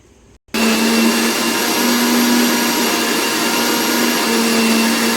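A blender whirs steadily while making lassi, a loud, continuous motor drone that starts abruptly after a brief quiet moment and holds at a constant pitch to the end.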